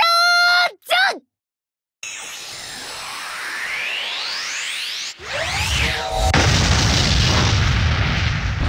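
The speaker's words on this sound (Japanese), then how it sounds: "来ましたよ。 エクスプロージョン。" In the game KonoSuba Fantastic Days, Megumin's Explosion spell builds from a chanted voice and a sudden silence into swelling whooshing tones, then erupts into a loud, sustained roaring blast.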